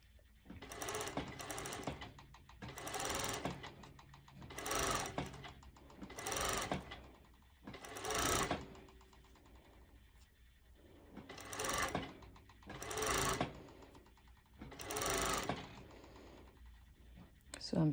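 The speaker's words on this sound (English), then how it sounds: "I'm top stitching it with my cover stitch." A cover stitch sewing machine top stitching a cut-out dress runs in about nine short, regular bursts of rapid mechanical stitching, moderately close, separated by quiet pauses.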